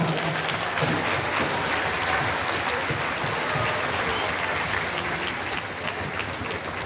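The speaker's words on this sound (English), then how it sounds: "let's give WeSee and all the WeSee donors a huge round of applause." Sustained audience applause fills a school band concert hall, a dense, even wash of many hands clapping for several seconds with a few voices mixed in beneath.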